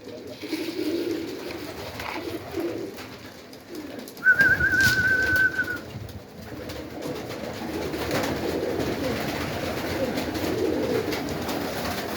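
Pigeon in an attic giving a short, clear coo-like call around the middle, heard against steady low background rumble and faint noise.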